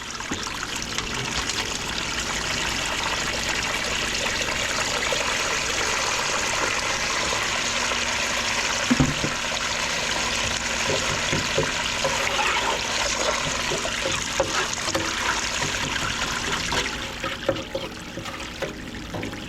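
Water runs steadily over a sluice washing dirty scrap copper, a continuous rushing trickle with occasional clunks of metal, moderately loud throughout and fading slightly at the end.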